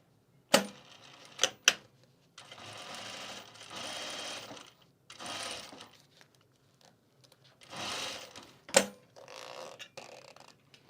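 A sewing machine stitches a zipper onto a travel bag's pouch pocket in several short, close bursts of rapid mechanical chatter, separated by pauses and a few sharp clicks and knocks.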